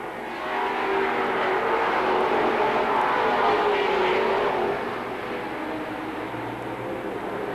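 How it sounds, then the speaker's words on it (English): Stock cars racing at Seekonk Speedway in 1984, a loud sustained roar of several engines at full throttle, swelling as the pack passes and easing slightly toward the end. "Martin takes to the low side. Dione and Gould follow suit."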